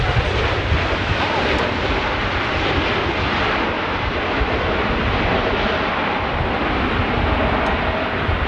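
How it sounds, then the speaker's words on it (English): Jet engines on a British Airways Boeing Dreamliner roar at high power, a broad, loud, continuous rumble that holds steady throughout. "A Dreamliner, British Airways Dreamliner, giving it some."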